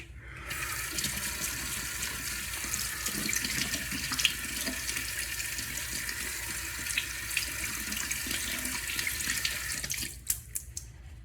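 Tap water runs steadily into a grandfather's old coffee mug used for soaking shaving brushes, a continuous splashing fill that stops near the end with a few faint clinks.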